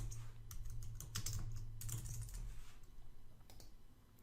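Rapid clicking keystrokes on a computer keyboard come in uneven bursts, close and fairly quiet, over a low steady background hum with no talk.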